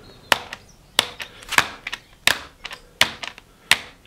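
CRS frame with rigid metal suspension and overlong loose bolts clacks in sharp, irregular knocks, roughly two per second, close up and fairly quiet against a near-silent background.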